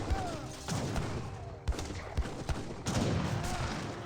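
Gunfire in Age of Empires 3 during a Dutch versus French battle with skirmishers and cuirassiers, scattered sharp musket shots and thuds over a dense roar of combat, repeated irregularly throughout.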